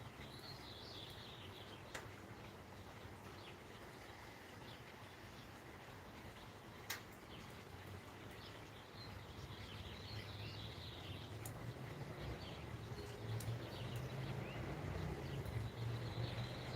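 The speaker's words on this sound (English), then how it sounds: "The birds, the waterfall in our pond." Soft outdoor ambience of birds chirping now and then over a faint continuous trickle of a pond waterfall, with an occasional distant tick.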